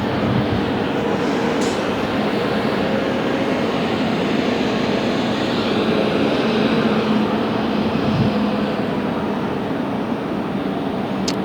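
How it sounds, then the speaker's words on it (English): A Virgin jet at LAX builds into a steady, loud roar of engine noise that holds for the whole stretch, with no talking over it. "I hear an engine spool happening. Is the Virgin Spy moving?"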